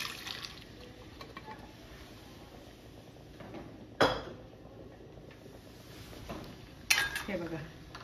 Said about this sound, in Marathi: आता ह्याच्यामध्ये हे आपले कुकरला आपण जे शिजवले छोले ते घालते मी.